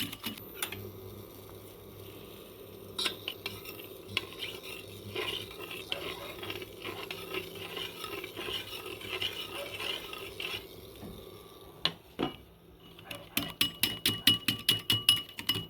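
Steady, fast scraping and clinking of a hand whisk beating egg and sugar in a bowl, close by, ending in a series of sharper rhythmic taps.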